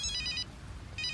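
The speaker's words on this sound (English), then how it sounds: "Oh, that's my phone." A mobile phone ringtone plays in two bursts of repeated electronic tones with a short gap between them, clear and fairly close, with no talking.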